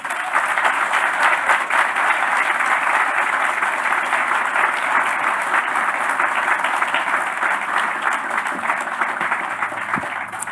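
Sustained applause from an audience at a university building dedication, welcoming the University of Iowa's 22nd president; dense, steady clapping from a large crowd lasting about ten seconds.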